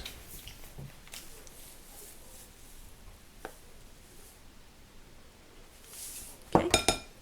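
Small metal measuring spoons clink faintly while salt is measured out for homemade flour tortillas, with scattered light taps and a brief cluster of louder jingling clinks near the end.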